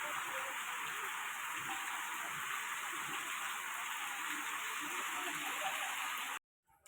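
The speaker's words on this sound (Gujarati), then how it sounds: "મન મૂકીને વરસાદ ચાલુ થઈ ગયો" Heavy rain pours down in an unbroken, even roar, then the sound cuts off abruptly near the end.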